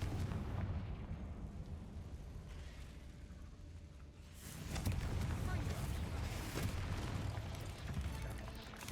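Confringo fire spell exploding in Hogwarts Legacy, a deep rumbling blast that roars loud and sustained, surging again midway amid continuous combat noise.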